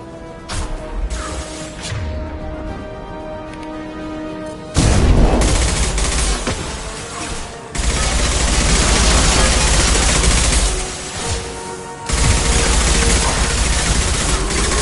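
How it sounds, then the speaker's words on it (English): Impact shot weapon fire from Mass Effect 2 comes in loud, heavy bursts, several distinct blasts separated by brief lulls, with crashing debris and rapid gunfire layered through the combat. "Firing an impact shot!"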